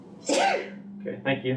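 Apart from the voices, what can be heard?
sneeze in a meeting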